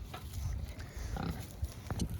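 Pigs on a farm, kept to clear land, grunt in low, irregular bursts close by against rustling outdoor noise, with a few sharper squeaky snorts.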